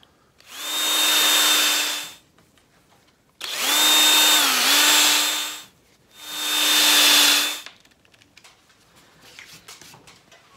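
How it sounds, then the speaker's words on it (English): A power drill bores holes into cedar wood for a garden obelisk, three loud whining bursts of about two seconds each, one dipping in pitch under load, with short quiet pauses between them. "And we'll drill the next hole."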